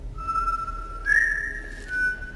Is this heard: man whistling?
yes